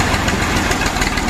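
Tractor engine running with big wheels, a loud steady diesel throb with a rough rhythmic knock, close by and continuous over a short stretch, no talking.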